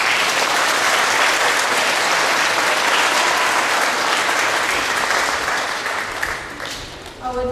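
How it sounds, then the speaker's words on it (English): Sustained round of applause from a school presentation day assembly audience for award recipients, dense steady clapping throughout that thins slightly near the end. "Can we please have a round of applause for the award recipients?"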